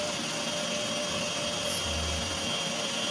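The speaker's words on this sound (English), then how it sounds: "all of it into my mixing machine, and I'm going to mix this for 60 seconds" An electric mixing machine whips butter and margarine on high speed, a steady loud motor whine and whirr running without pause, close by and with no talking.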